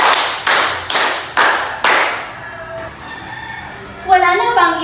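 A classroom of students claps five times in a quick, even rhythm, each clap loud and sharp, followed by faint voices and chatter.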